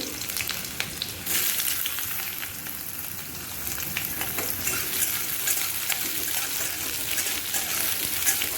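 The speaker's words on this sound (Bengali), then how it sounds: "একটু এলাচি দিয়ে দিলাম, 5 ফোড়ন দিয়ে দিলাম, পেঁয়াজ দিয়ে দিচ্ছি" Onion sizzles in hot oil in a pan along with cardamom and five-spice, a steady, dense frying hiss that holds at a constant level throughout with faint clicks of stirring.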